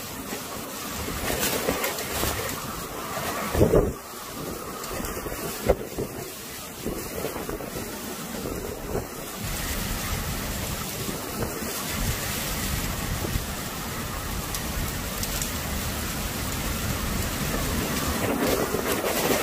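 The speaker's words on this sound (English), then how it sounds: "This wind is not letting up, y'all." Strong derecho winds roar and buffet around a house, producing continuous loud rushing and gusting with occasional thumps and rattles throughout.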